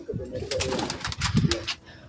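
Pigeons coo softly in short, low bursts, close by and mixed with someone talking over them.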